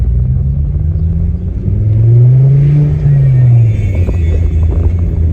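Ford Focus ST225 engine with a boost fault and misfire, revving up and down on a residential street, a steady close low rumble that swells into a rising then falling rev mid-clip.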